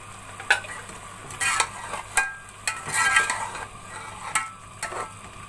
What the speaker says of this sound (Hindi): अब इसको थोड़ी देर भून लेंगे।